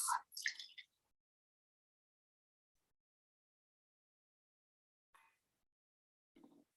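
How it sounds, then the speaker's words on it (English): Homemade chemical-free mosquito repellent liquid poured into a glass vial gives a couple of short, wet dripping splashes up close, then near silence broken by two faint later drips. "So I'm pouring it into the glass."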